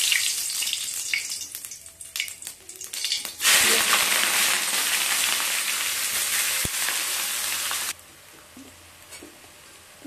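Cumin seeds hit hot oil for mutton kasha with a sudden loud, dense sizzle that holds for several seconds before easing to a quieter crackle, after some lighter kitchen clatter.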